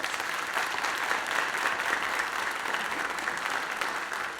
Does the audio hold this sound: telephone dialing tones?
no